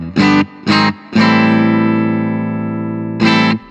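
Electric guitar played through a Vox DA5 practice amp on a clean setting with reverb, three short strummed chords and one long ringing chord that slowly decays, bright and close.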